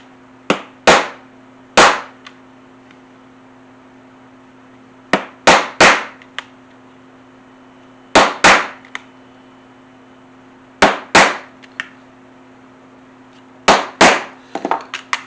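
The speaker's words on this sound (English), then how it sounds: "I'm going to punch through both pieces at the same time" Sharp hammer strikes drive a leather punch through a folded leather sheath for an axe or hatchet, landing in quick clusters of two to four loud knocks separated by pauses, over a low steady hum.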